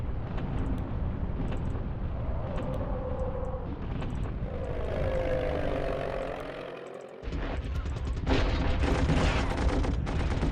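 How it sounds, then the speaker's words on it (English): Bombing attack in a World War I strategy video game, with dense, continuous rumbling explosions and gunfire-like crackle, a droning tone swelling midway, then a sharp burst of repeated blasts, loud and sustained. "Let's bomb them out to the coast."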